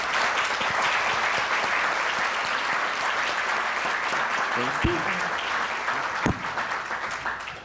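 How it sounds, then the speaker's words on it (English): Conference audience applauds panelists at the Mackinac Policy Conference, a steady, full round of clapping that fades gradually near the end, with a brief spoken thanks and a couple of short tonal blips over it. "Can we give our panelists a round of applause?"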